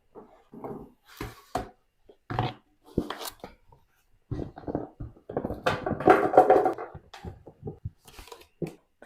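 Chopped sweet peppers are tipped into an old saucepan in a home kitchen, giving a close series of soft thuds, rattles and clatters in separate bursts.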